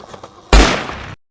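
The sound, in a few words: gunshot in a forest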